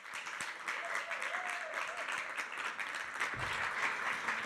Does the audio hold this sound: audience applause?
yes